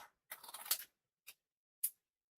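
Scissors trimming pieces of craft paper: one longer rasping cut followed by two short, crisp snips, close up and alone in a quiet room.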